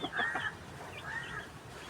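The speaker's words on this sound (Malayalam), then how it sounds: "തനി നാടനാണ് കേട്ടോ" A native (nadan) rooster at a poultry farm in Kozhikode gives short clucking calls near the listener, with faint background noise and no talk.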